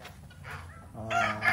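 Chickens cluck in a backyard pen, a cluster of close, loud calls that swell toward the end, with no talking.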